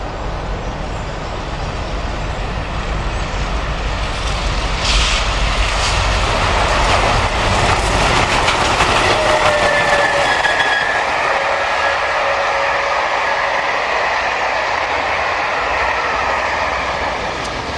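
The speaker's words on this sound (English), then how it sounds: "The exceptionally claggy Tangmere approaches Hook at speed with the Royal Wessex Charter of June 2005." The steam locomotive Tangmere, working hard and smoky, approaches at speed with the Royal Wessex charter train, a loud rushing roar of exhaust and wheels that swells as it nears, with faint whistle-like tones partway through.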